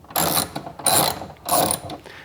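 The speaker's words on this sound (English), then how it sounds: "we have our trusty 10mm socket here, and we're just gonna go ahead and loosen these up" A ratchet turning a 10mm socket to loosen the mounting bolts of a bike rack on a Rivian R1T pickup, sounding as three loud, close bursts of rapid clicking separated by short pauses.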